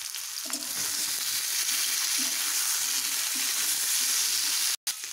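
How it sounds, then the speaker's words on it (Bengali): Boiled potatoes frying in hot oil with nigella seeds and a pinch of salt make a constant crackling sizzle, with occasional stirring scrapes and a brief dropout near the end. "আলুটা লাল করে ভেজে নিয়েছি"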